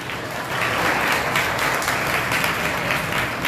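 An audience at a Dua Foundation event in Maharashtra claps steadily, dense and sustained applause filling the room at moderate loudness with no pauses.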